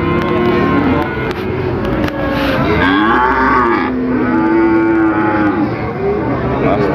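Calves moo loudly and repeatedly at Pasar Pon Jaken livestock market in Pati, several long drawn-out calls overlapping amid a busy crowd and market noise.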